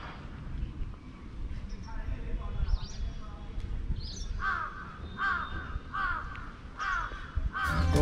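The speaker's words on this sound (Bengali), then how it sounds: "আমি যদি একটু কথা বন্ধ করি তাহলে হয়তো আপনারা শুনতে পারবেন পাখি ডাকছে এখানে" Crows cawing repeatedly among other bird calls at the back of an old zamindar house in Baliati, over a steady low background rumble; the calls come in several bursts, moderately near.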